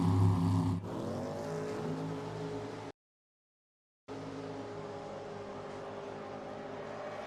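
NHRA drag racing cars launch at Pacific Raceways near Seattle, a loud engine roar that drops after the start, cuts out briefly, then returns as a sustained, slightly distant drone.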